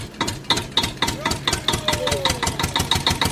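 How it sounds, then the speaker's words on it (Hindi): A toy tractor gives out a rapid, regular chugging engine sound effect, evenly spaced beats over a few seconds, fairly close and moderately loud. "वाओ ट्रैक्टर, चलो चलो ट्रैक्टर,"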